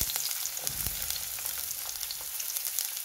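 Onion for green beans with carrot goes into a hot pan and fries with a steady, bright crackling sizzle, with occasional stirring knocks up close and no talking.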